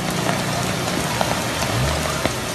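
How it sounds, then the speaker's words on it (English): Heavy rain falling on a flooded city street, a steady, close wash of drumming drops with occasional sharper splashes and a low background rumble, no speech. "You can see the water lapping up there as the heavy rain continues to hit one of the more prone spots"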